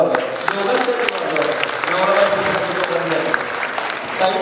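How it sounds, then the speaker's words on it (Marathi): An event audience applauds a speaker with steady, dense clapping that holds for the whole stretch, with voices mixed in beneath it. "एकदा सरांच्यासाठी जोरदार टाळ्या वाजवा."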